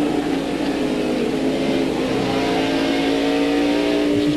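A 1997 race car at Watkins Glen powers out of turn nine in third gear, its engine note climbing in a loud, sustained rising drone mixed with crowd and track ambience, no voices.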